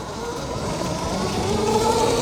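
72V electric dirt bike accelerating, a rising whine with road and wind noise building steadily in loudness, close and continuous with no talk.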